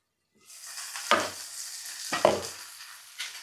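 Tomatoes drop into a sizzling frying pan of browned ingredients for a high-protein chicken dish, with two bursts of loud hissing sizzle and a steady fry between them, close and without talk.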